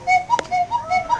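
A German cuckoo clock gives its two-tone call, repeated about three times in quick succession, with a short click partway through; the sound is close and clear and there is no talking.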